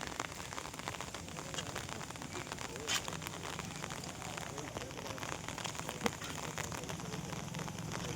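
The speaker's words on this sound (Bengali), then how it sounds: "একটু কমেছে বৃষ্টিটা, তবুও টিপটিপ করে পড়ছে।" Light rain falls steadily in a continuous soft patter of drops, with a faint outdoor hiss and no talk.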